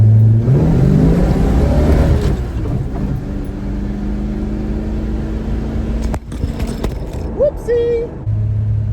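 A 1964 Dodge Dart with a swapped 5.9 Magnum engine drives along, its engine droning and revving up and down up close, with some clunks and a brief whine under the steady roar.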